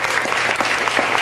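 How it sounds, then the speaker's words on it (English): A studio audience claps steadily in a dense, even burst of applause that lasts about a second. "Give her a big round of applause."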